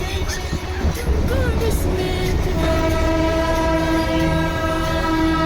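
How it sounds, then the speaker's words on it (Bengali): A toy train with three coaches runs on a mountain railway, its horn sounding in long sustained tones over steady, loud rumbling and clatter from the wheels and carriages. "দেখো তোমরা টয় ট্রেন"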